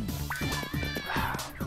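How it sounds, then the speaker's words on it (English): Cat meows from the Paper Mario: The Thousand-Year Door game, a few short mewing calls over a rhythmic bouncy music track, fairly loud and repeated across the moment. "Meow meow, stop meow meowing."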